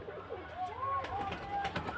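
Domestic pigeons cooing softly at a bird keeper's loft, a few low rolling coos rising over a steady hum of background noise, with no talking.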